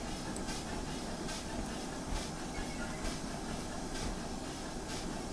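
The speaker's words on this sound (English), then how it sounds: "mainly a wood stock train, headed by 2 pannier tanks of the Great Western Railway" A wood stock train double-headed by two Great Western Railway pannier tank engines in a train simulator game gives a steady rumbling roll with faint rhythmic wheel clicks and hiss, with no voices.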